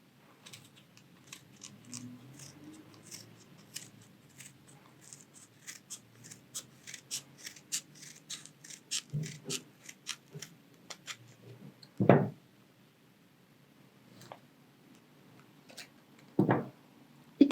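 Scissors snip through material while making a Christmas beret craft, a series of small crisp clicks and cuts close up, with a few sharper, louder snips near the end and no talking.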